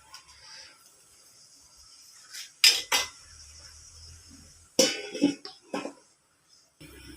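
A cooking pot of tofu with bok choy being stirred, a spoon scraping and clinking against the metal and then the lid clattering back on, in two short bursts separated by quiet.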